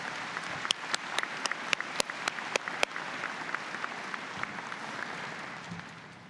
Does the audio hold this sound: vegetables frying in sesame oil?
no